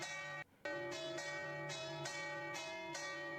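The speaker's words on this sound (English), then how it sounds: "we got to hear the bells" Church bell ringing in a sustained, layered peal with strong ringing overtones, steady and fairly faint as if played back from a recording, with one brief dip near the start.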